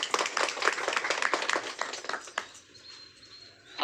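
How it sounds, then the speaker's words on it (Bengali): Audience at a clothing distribution event claps together in a burst of applause for several seconds, then the clapping dies out into quiet room tone with a faint high tone. "হাততালি।"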